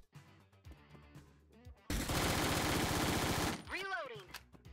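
Sustained automatic gunfire in the SWAT video game Door Kickers: Action Squad, a loud continuous burst of rapid shots lasting over a second, followed by game sound effects, with quieter game noises before it.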